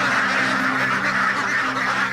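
A dense crowd of ducks on a duck farm quacks and honks all at once in a loud, continuous chorus close by.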